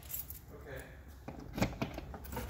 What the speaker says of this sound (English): And I have my keys.